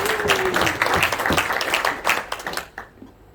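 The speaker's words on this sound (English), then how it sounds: "Big round of applause, please, for Fatima." An audience at a cricket association launch event applauds, a dense burst of many hands clapping together, with a voice over it at first, before it thins and fades to quiet near the end.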